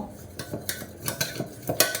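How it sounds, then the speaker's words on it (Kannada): Cooked lentils and tomatoes for rasam are mashed in a metal pot, giving a series of sharp clinks and scrapes of a utensil at irregular intervals, close and alone. "ಇವಾಗ ಇದನ್ನು ಸ್ವಲ್ಪ ಸ್ಮ್ಯಾಶ್ ಮಾಡಿಬಿಟ್ಟು"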